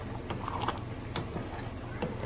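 A washing machine churns in the background with a low mechanical rumble and rhythmic clunks and rattles, moderately quiet and steady.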